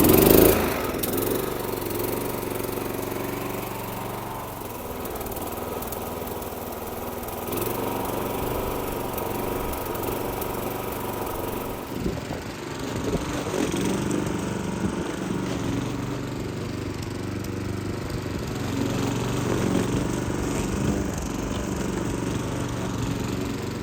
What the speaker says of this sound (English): Now that mower runs sweet as a nut